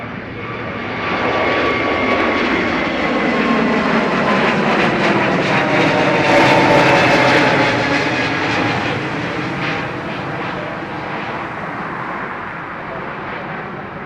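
An aircraft engine roars at Dublin Airport, a loud sustained jet rumble that swells to a peak midway and then slowly eases as the plane moves past, with no voices over it.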